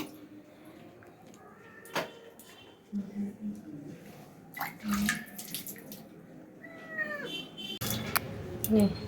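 Water splashes and trickles nearby as a sick pet cat is bathed, with intermittent sloshing, brief meows and people talking over it.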